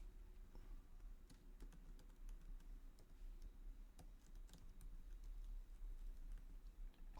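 Quiet, fast clicking of computer keyboard keys while code is typed, irregular taps in short bursts, close but faint, with no talking.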